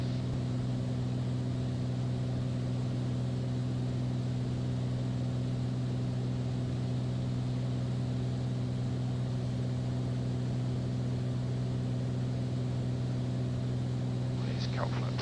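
Steady drone of a small propeller airplane engine in cruise flight under IFR, with strong low harmonic tones running continuously throughout and a brief click near the end.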